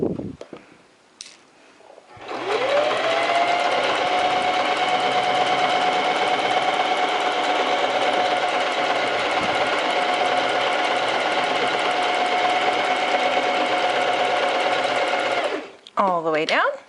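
A sewing machine runs steadily for about thirteen seconds, stitching a half-inch seam on a basic skirt, a continuous close whir with a constant pitch that starts and stops abruptly.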